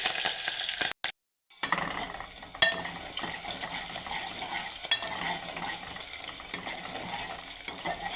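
Onion and green chillies frying in a pan on a low flame for a cluster bean curry: continuous close sizzling with occasional spoon scrapes and stirring clinks, briefly cut off near the start.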